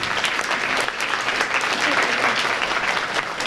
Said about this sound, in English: First of all, a round of applause already for our accompanist